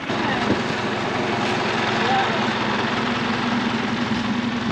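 A farm tractor idles during a pumpkin harvest, giving a steady low rumbling drone with a faint knocking pulse. Throughout the clip the sound holds at an even, moderately loud level.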